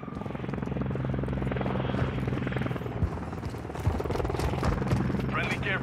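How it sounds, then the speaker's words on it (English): An enemy helicopter flies overhead in the Modern Warfare 3 video game, a loud steady rotor drone and engine whine holding through the clip, with gunfire thuds and game voice chatter mixed in. "Enemy Overwatch helo inbound."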